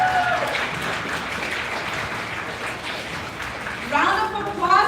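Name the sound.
audience applause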